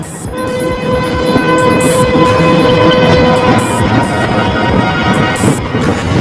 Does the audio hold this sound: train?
yes